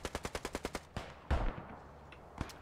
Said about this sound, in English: That SMG from Laquit.